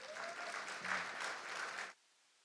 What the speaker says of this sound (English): Really a round of applause for that.